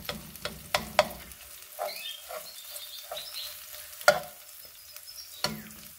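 Egg whites frying and being scrambled in a pan: a steady, quiet sizzle broken by sharp scraping and tapping strokes of a utensil every second or so.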